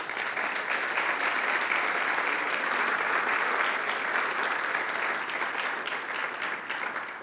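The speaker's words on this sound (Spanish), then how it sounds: "Denle un aplauso al Señor." Sustained applause from a church congregation, steady clapping throughout that tapers slightly toward the end.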